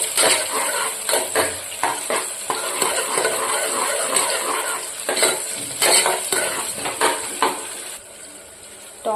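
Tomato cooking in a pan for chicken masala gravy, with a steady sizzle under repeated scraping and stirring clinks of a spoon against the pan, close and fairly loud.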